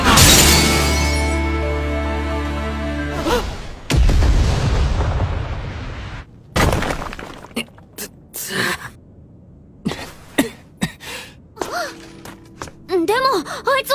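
A building is blown apart in an anime: a long, loud, rumbling blast with crashing debris, followed by a string of sharp scattered impacts and brief voices near the end.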